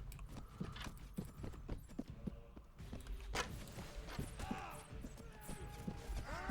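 Horse hooves clip-clop over the ground in the medieval battle game Mount and Blade: Warband, a quiet, steady drumming of hoofbeats with faint clanks and creaks in the background.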